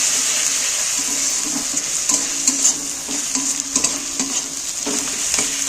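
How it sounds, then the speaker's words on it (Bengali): Garlic paste being stirred into frying onions for a chicken dish, with a steady loud sizzle and repeated scraping stirs of a spoon in the pan throughout. "রসুন বাটা দিচ্ছি দিয়ে পেঁয়াজটাকে পেঁয়াজটার সাথে একটু মিক্স করে নিচ্ছি"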